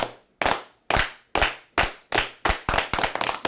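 At a community gathering in Liberty City, Florida, the crowd claps in unison, about ten sharp, loud claps with distinct gaps that speed up steadily, the final ones tumbling close together.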